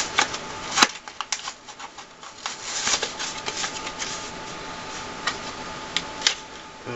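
Pokémon cards and a Tepig blister pack being handled up close, with steady crinkling plastic, rustles and small clicks and taps throughout, no talking.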